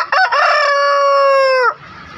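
A single loud crow from a Pelung rooster, rising and holding a long drawn-out note before dropping off, with a brief cluck at the start, at a market in Makassar.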